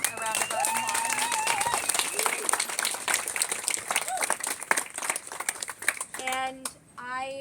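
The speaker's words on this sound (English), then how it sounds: "Let's give them a round of applause." Crowd applauding the organizers at an outdoor community speak-out on a street safety redesign, a steady patter of clapping hands mixed with cheers, whistles and overlapping voices, tapering near the end.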